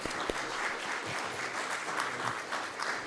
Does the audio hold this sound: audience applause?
yes